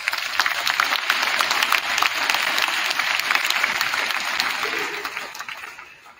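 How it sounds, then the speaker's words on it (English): A round of applause at a high school boys' freshman basketball awards gathering, loud and dense clapping from the crowd, sustained for several seconds before fading toward the end. "Let's give Gavin a round of applause."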